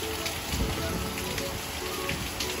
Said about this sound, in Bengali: এখানে খুবই জোরে বৃষ্টি শুরু হয়েছে আর তার সাথে ঝড়ও হচ্ছে